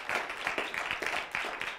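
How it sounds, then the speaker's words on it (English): Congregation at a church sermon clapping hands in a steady, moderately paced rhythm, fairly distant and soft, filling the whole short stretch without speech. "I clap your hands for that."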